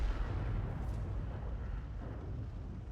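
Enemy artillery shell landing near a heavy IS tank in World of Tanks, a dull rumbling impact with a low, rolling roar that stays dense and steady, no talking heard.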